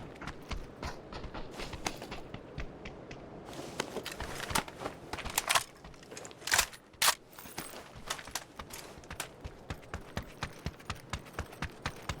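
Footsteps of a player running nearby on Erangel in PUBG, a rapid rhythmic run of clacking steps that grows louder and closer, then continues steadily, with no talk.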